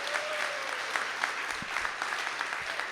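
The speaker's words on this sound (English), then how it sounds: "Give him a round of applause." A live audience claps for a sound effects and music performer at a radio show recording, with brisk, fairly close applause and distinct individual claps throughout.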